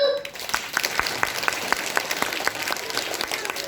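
An audience claps along in a steady, even beat at a stage performance, a regular rhythmic pulse of group clapping over a bed of crowd noise.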